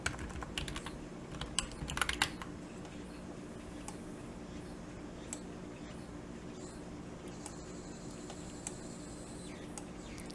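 Keys clatter on a computer keyboard in quick bursts near the start, then give way to sparse, faint taps over a low room hum.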